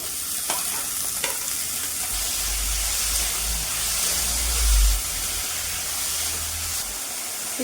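Boiled banana flower hits hot oil with a spiced onion, ginger and garlic masala, a loud continuous sizzle and hiss with clacks of stirring near the start, close up.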